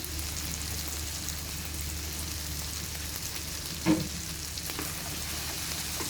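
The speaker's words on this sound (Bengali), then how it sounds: "এইভাবে করে আমি ভেন্ডিটা ভাজি করি।" Okra frying in a pan with a pinch of salt, a steady close hiss running throughout with one brief louder clatter of stirring partway through.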